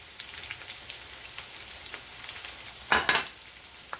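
Potatoes and onions frying in a pan, seasoned with salt and pepper. The sizzle is soft and steady with scattered light crackles, and a brief louder spatter comes near the end. Nobody speaks.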